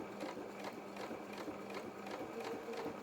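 A sewing machine runs a continuous stitch along doll holster trousers, a soft, even, rapid whirring that stays quiet and close throughout with no voices.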